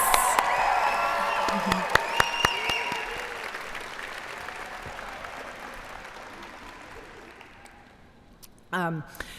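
A crowd applauds graduates at a PVCC nursing program pinning ceremony, with cheers and whoops mixed in; the clapping fades gradually, then a voice speaks briefly near the end.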